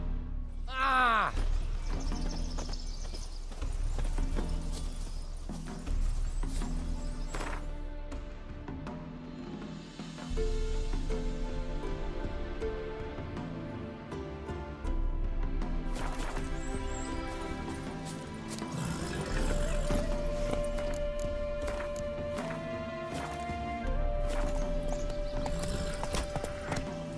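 Roach the horse trots in The Witcher 3, a steady clip-clop of hooves running nearly throughout under sustained game music, with a brief whinny early on.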